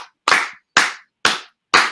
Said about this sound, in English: 5 claps to the production